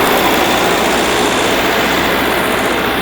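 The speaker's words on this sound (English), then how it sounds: "Down here we have the generator." Generator running on the driver's side of a custom-built interactive bus, a loud, steady, close engine drone with a low rumble and broad hiss and no pauses.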